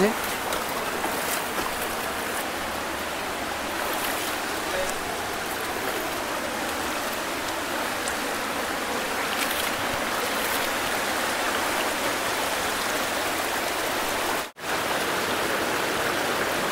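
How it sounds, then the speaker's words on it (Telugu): A waterfall at Nalla Rayiguda roars as a steady broadband rush close by, unbroken apart from a brief dropout near fifteen seconds. "ఫైనల్గా వాటర్ ఫాల్స్ దగ్గరికి వచ్చాము"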